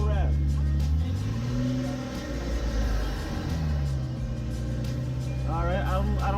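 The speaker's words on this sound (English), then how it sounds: "Give it a small rev." A Nissan 370Z fitted with a Takeda longtube intake idles with a deep rumble, then rises briefly in pitch through a small rev and settles back, with a voice speaking over the engine near the end.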